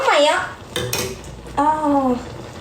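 A utensil stirs Indomie noodles in a pot, giving repeated metallic clinks and scrapes, while a voice hums and vocalises in sustained tones over the stirring.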